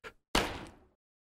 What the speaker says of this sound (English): You punched the door.